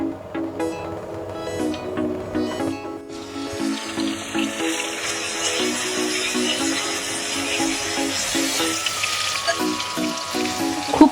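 Fish frying lightly in mustard oil, a broad hissing sizzle that swells after a few seconds and holds steady, with a tonal hum underneath at the start and no speech.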